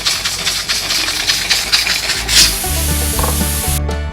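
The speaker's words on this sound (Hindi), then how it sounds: "अब हम चूल्हा बंद करके कुकर की हीट निकाल के कुकर को खोलेंगे।" A pressure cooker of mutton on a stove vents steam in a loud, close, rushing hiss that drops away halfway through, leaving a low rhythmic pulsing with no talk.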